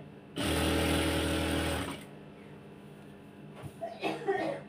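A sewing machine runs in one continuous loud burst of about a second and a half, stitching piping onto the side seam of a kameez, then stops; someone talks afterward.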